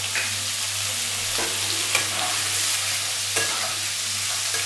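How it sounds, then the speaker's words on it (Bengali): Onion, capsicum and tomato fry in a pan for chilly chicken-egg gravy, a steady broadband sizzle holding throughout with a few soft stirring scrapes and a low steady hum beneath, no voices. "আমি একটু ভেজে নেব"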